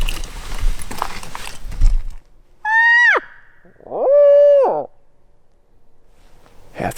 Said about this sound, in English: Half the time birds don't even gobble to that owl scream